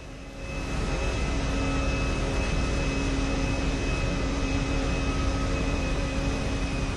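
An airplane in the video game GTA V sets up a steady, even engine drone that swells in within the first second, then holds constant and fairly loud to the end with no talk.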